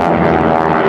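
Propeller airplanes with 600-horsepower Pratt & Whitney R1340 nine-cylinder radial engines, each over 5,500 pounds, flying in close airshow formation; a loud, steady droning engine roar fills the short stretch without talk.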